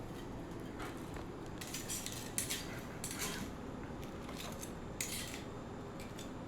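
Crisp, sharp crackles and clicks of oven-baked food being handled and pressed, several distinct bursts over a low steady background hum, no talking.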